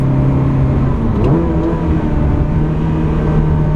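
A 2004 Ferrari 360 Modena with a six-speed gearbox and racing exhaust revs loudly and steadily up close, its engine note rising and then holding with a strong, continuous growl.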